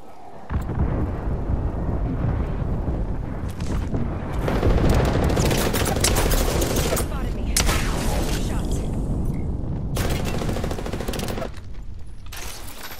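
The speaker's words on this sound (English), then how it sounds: "we got an airstrike coming down" Heavy rumbling booms and crackling blasts from an airstrike in the Apex Legends video game, a continuous loud barrage of explosions rolling on for many seconds with brief lulls between impacts.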